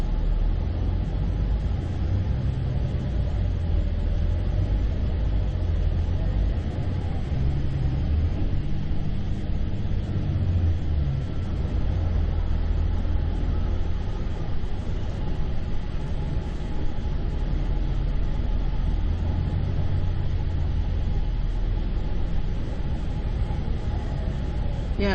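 A city bus on Route 42 between Waikiki and Ewa creeps through a traffic jam, a continuous low engine rumble and road drone inside the cabin, steady with no pauses.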